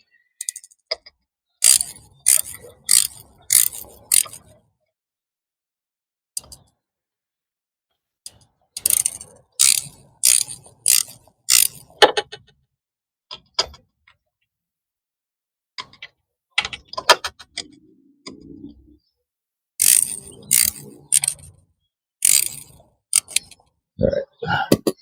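A socket wrench ratchets in quick clicking runs on an oil drain plug under a car during a permanent fix for a leak, coming in three separate bursts with quiet pauses between them, close and crisp.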